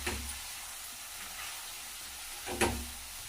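Chopped tomatoes and brinjal dropping into hot spiced oil tempering, giving a soft steady sizzle with a sharper burst of frying hiss near the end, quiet and close.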